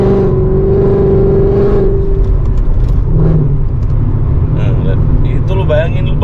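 Mercedes C63 AMG with its 6.3-litre V8 roars loudly nearby, engine tone climbing and then dropping as gears change, with someone talking over the sound.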